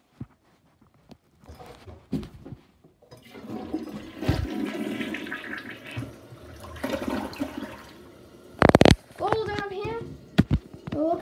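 A Gerber toilet flushes in a home bathroom, a loud rushing gurgle of water that swells and drains over several seconds, with a person talking nearby before and after.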